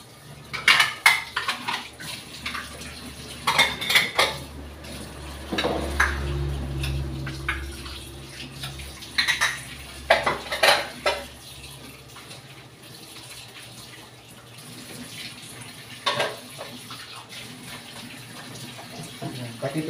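Dishes, pots and cutlery clatter and scrape in a sink under running tap water, with irregular clinks and a steady faucet stream through the middle, close by during a routine after-work dish washing.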